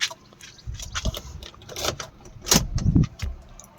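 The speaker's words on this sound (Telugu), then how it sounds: "ఇది కీ వచ్చేసి మూడు రిమోట్ కీస్ ఉన్నాయి" A set of three remote car keys for a 2010 Maruti Suzuki WagonR 1.0R jangles up close, with a few bright metallic clinks and rattles spread across a few seconds and soft handling thumps between them.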